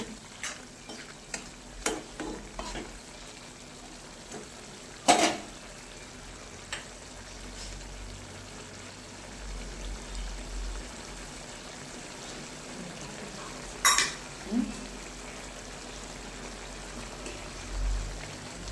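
A pot being stirred after coriander goes in, heard as soft scrapes and clicks of the spoon over a faint sizzle, with a couple of sharper knocks against the rim.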